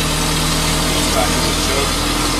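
A 1924 Bullnose Morris Cowley engine turns over and catches, settling into a steady, close, throbbing idle with constant low rumble.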